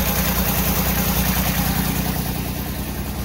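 The diesel engine of a Kubota RTV1140CPX utility vehicle idles steadily and loudly up close with an even low rumble, a small diesel leak noted on it, and no voices.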